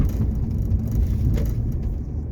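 A Hyundai Coupé V6 (FX) cruising at barely 1500 rpm and about 30 km/h gives a steady, low, rumbling engine drone inside the cabin, continuous and fairly loud with no voices.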